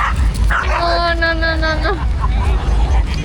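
A dog gives a drawn-out, whining yelp amid crowd chatter, with a short spoken word nearby and steady background noise throughout.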